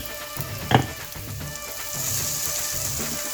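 Chopped ginger and chili sauté in a pan with onion and vegetables for fried rice, producing a continuous close sizzle with a sharp clink of stirring.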